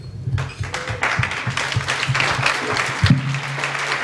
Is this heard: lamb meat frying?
no